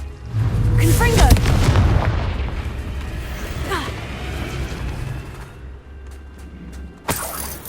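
Confringo spell blasts in the video game Hogwarts Legacy: loud booming explosive bursts with rumbling decay, a heavy impact early on followed by further blasts and a sharp crack near the end, with a voice heard.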